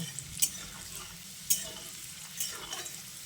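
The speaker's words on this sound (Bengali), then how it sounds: "এবার ফোড়নটাকে কিছুক্ষণ ভেজে নিচ্ছি।" Garlic and whole spices tempering in hot oil for a chicken curry, a soft steady sizzle with a few sharp stirring clinks of a spoon against the pan.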